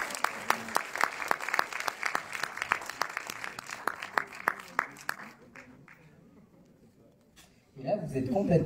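An audience in a cinema applauds film guests, with loud, dense clapping for about five seconds that thins into scattered claps, then fades as talk begins.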